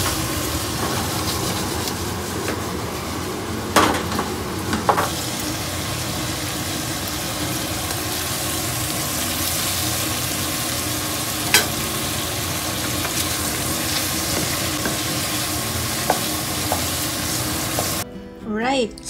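Pinakbet, a vegetable dish, sizzles and fries steadily in a pan for a long, continuous stretch with a constant hiss, a few utensil clinks and scrapes, and a short clatter near the end.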